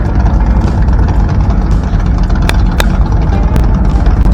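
Motorcycle club bikes idle together before heading out on a ride, a steady loud rumble of engines with a few sharp clicks over it and no voices.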